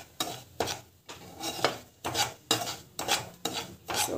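Semolina dry-roasting in a pan for a dhaba-style kesar bath, stirred with a rhythmic scraping rasp about twice a second, close and steady, with no talk.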